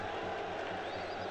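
Football stadium crowd at an Asian Champions League match between Air Force Club and Al Ittihad reacting to a shot, a dense, steady roar throughout, loud and continuous.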